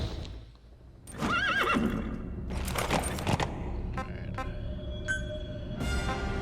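A horse whinnies once, loud and close, in the video game Metal Gear Solid 5 set in Afghanistan, followed by a few hoof clops and clicking interface sounds, with no talking.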